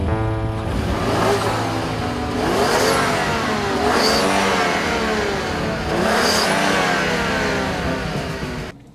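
A 2015 Volvo V60 T6 with all-wheel drive accelerates hard on a track lap, heard close from inside. Three rising engine sweeps climb through the gears with a brief dip at each shift, and the sound is loud and continuous.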